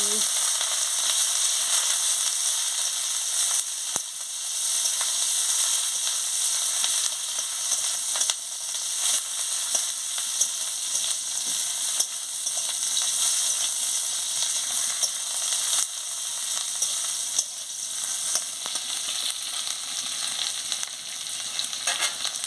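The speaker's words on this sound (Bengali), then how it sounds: "আমি ভালো করে একটু নাড়িয়ে নিচ্ছি পেঁয়াজ আর কাঁচা লঙ্কাটা দিয়ে দিচ্ছি দিয়ে ভালো করে একটু ভেজে নিচ্ছি" Chopped onion and green chilli frying in a hot pan, a steady bright sizzle with crackles and occasional scraping stir, close and unbroken, no voices.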